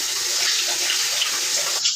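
Water gushes steadily from a household tap while being poured for a dog named Louie. It is a continuous close hiss and splash with no pauses and no talk.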